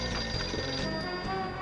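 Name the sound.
telephone ringing on a pinball table in Pinball Arcade video game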